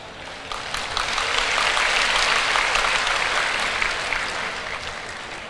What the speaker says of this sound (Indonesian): Kok tepuk tangan?